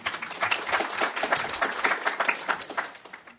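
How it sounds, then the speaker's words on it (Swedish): An audience at a Swedish democracy report seminar applauds a political science lecturer, a moderate burst of many hands clapping that stays fairly even before tapering off at the end. "Och en applåd såklart till dig också."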